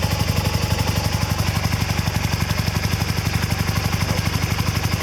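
A 1983 Honda CM450A Hondamatic motorcycle idles steadily up close, its engine putting out an even, rapid low thumping pulse with mechanical clatter that holds constant throughout.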